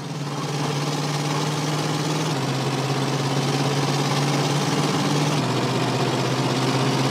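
An old van's engine runs steadily in GTA San Andreas, its worn block held together with a macrame hammock while it burns old cooking oil, giving a continuous loud idling drone with a knocking mechanical rumble and no talk.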